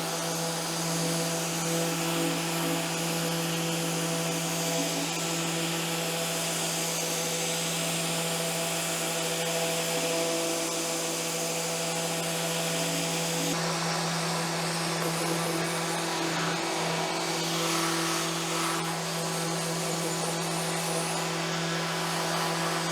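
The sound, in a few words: power sanding an Irish oak dough bowl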